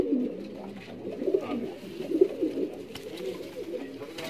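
Large Rampuri pigeons coo in low, repeated throaty pulses, several soft phrases following one another at close range.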